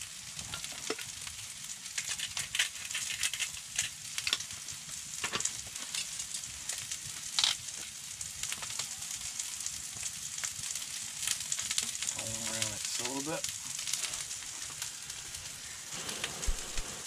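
Steady crackling sizzle of meat frying in a hot pan, continuous hiss with occasional pops and a brief scrape partway through.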